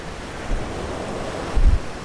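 Winter surf washing onto a Florida beach, a steady broadband wash with wind noise on the microphone and two low thumps of breaking waves, no voices.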